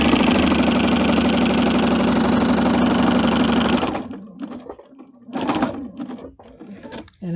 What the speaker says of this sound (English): All we're going to do is sew from one side to the other. It's all straight stitching.